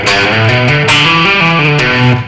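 Distorted electric guitar plays a slow descending rock lick with pull-offs, from a rock chops pattern ending on a low B on the sixth string; sustained, overdriven notes step steadily downward, loud and alone.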